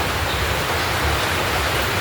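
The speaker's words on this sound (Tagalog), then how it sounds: "Yan po, maulan." Heavy rain pours down in Southern Leyte under dark skies, a dense, unbroken wash of broadband hiss with no voices.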